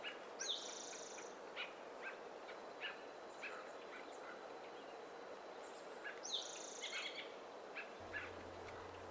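Birds, among them a thrush, call from inside a pine tree in a backyard: short, bright chirps and a couple of clearer whistled notes come and go against a soft outdoor hiss, fairly faint and without speech.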